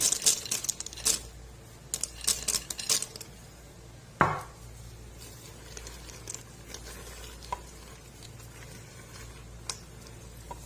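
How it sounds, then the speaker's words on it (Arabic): Peanuts tumble into a pan of nougat, a short clattering rattle with a sharp burst of scraping and stirring, then quieter intermittent clinks and stirring against the pan. "هنحط شوية سوداني"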